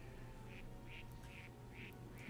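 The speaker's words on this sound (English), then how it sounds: "I'm hearing ducks." Ducks quack in the video game New Pokemon Snap, five evenly spaced quacks that sound faint and somewhat distant over a low, steady ambient hum.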